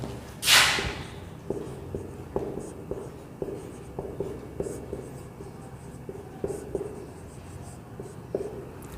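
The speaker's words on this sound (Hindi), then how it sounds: "मैं 2-4 सेंटेंस लिखता हूँ फिर आपको समझाता हूँ" Chalk or marker writing on a classroom board during an English grammar lesson, a steady series of short scratchy strokes and taps repeating every second or so, fairly close, with no talk over it.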